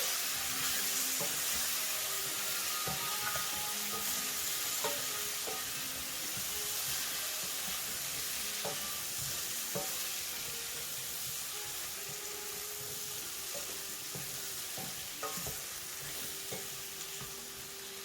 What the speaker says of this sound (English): So as my eggplant and potatoes are nicely cooking here together